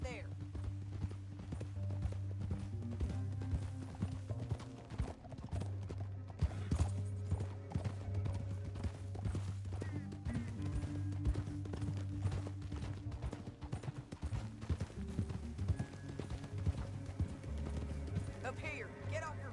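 Horse hooves clip-clopping steadily on the ground in Red Dead Redemption 2, a continuous rhythmic gait running under game music and character dialogue throughout.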